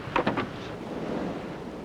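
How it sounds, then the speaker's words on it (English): Strong wind buffets a microphone over open water during vintage windsurfing, a steady rushing roar with a few brief gusty thumps at the start. "Lots of wind."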